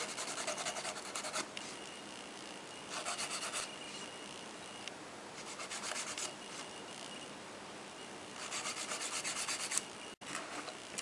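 A straight nail file rasps back and forth across gel nails in close, quiet strokes, pausing briefly between bursts of steady scraping.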